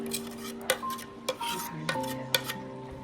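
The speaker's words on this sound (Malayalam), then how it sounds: "അതൊരു പാത്രത്തിലേക്ക് നമുക്ക് മാറ്റാം." Ground rice and urad dal batter is scraped from a grinder jar into a vessel, with several sharp metallic knocks and scrapes spaced about half a second apart over faint ringing tones.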